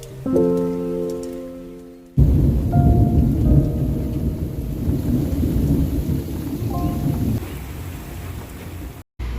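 A loud, steady downpour with rumbling thunder fills the scene after a short tonal sound at the start, continuous and close.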